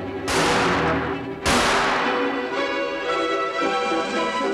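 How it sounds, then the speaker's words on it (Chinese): Gunshots fired into a cave in a staged opera scene: two loud, sharp blasts about a second apart, each trailing into a long echoing decay with a sustained ringing tone behind them. "他向洞内开枪。"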